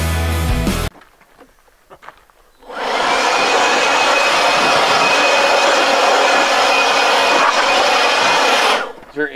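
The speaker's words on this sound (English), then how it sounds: "bringing a cordless blower to clean your vehicle on a trail" A cordless blower drying off a mud-spattered HZJ79 Land Cruiser on a trail runs as a loud, steady whoosh for about six seconds after a brief pause, then cuts off.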